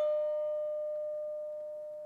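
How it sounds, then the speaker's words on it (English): A metal bell struck once rings with a clear, sustained tone and steady overtones, decaying slowly on its own with no voices. "The frequency of the waves in this bell determine the sound you hear, the note you hear in your ear."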